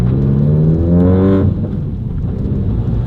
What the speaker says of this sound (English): You can hear the car is pretty loud.